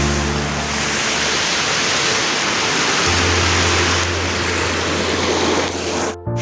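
A river rushes in a broad, continuous roar while a motorbike fords a spread-out stream, the water noise dense and loud throughout with a low engine hum beneath, ending abruptly.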